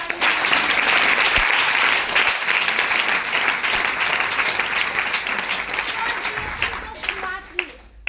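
Loud, dense applause from an audience at a business seminar fills most of the stretch, tapering near the end as voices begin to be heard.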